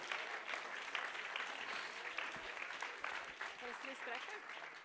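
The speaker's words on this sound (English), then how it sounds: "one more applause for all of those" An audience at the European Slam Poetry Championship final in Košice gives a round of applause, a steady, soft wash of clapping that runs the whole time, with a voice speaking faintly near the end.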